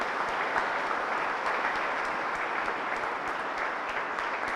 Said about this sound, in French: Nous pourrons les applaudir pour encourager pour la mission